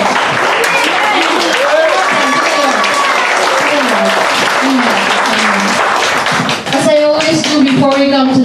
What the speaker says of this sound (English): Give your clap offering to the Lord.